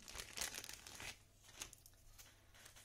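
Paper wrapping crinkles and rustles up close in a few quick bursts, then quieter handling noises follow.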